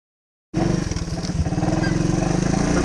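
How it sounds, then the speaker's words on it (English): A 1985 Honda ATC 125 three-wheeler starts up after silence and runs loud and close, its small engine revving with a steady throbbing pulse as it heads out onto home trails. "I believe it's a good time for a quick shred on the three-wheeler."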